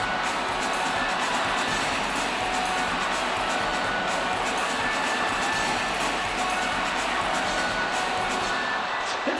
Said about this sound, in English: The home crowd has been waiting for something to cheer about,